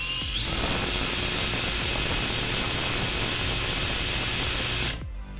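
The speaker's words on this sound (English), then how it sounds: "I'm gonna spin this motor" An RC brushless motor driven by an ESC spins up and holds full speed with a steady, piercing high-pitched whine for several seconds, then cuts off abruptly into near silence.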